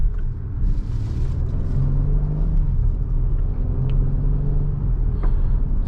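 A 2024 Acura MDX Technology SH-AWD rolls over a gravel road, heard from inside the cabin as a steady low road rumble with soft tire crunch, and no one speaks.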